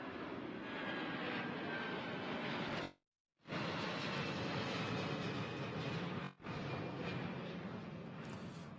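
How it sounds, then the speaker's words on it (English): A plane passes overhead near JFK International Airport at a cricket match ground, giving a loud, sustained broadband engine roar that fills the whole stretch, broken only by two brief gaps. "A lot of activity across this ground from the planes landing on, taking off from the John F. Kennedy International Airport"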